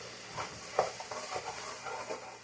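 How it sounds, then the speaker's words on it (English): Garlic and thyme get stirred in a hot pan for ratatouille, soft scraping strokes over a faint sizzle, quiet and close with a sharper clink near the start. "So give it a stir. Get everything mixed around."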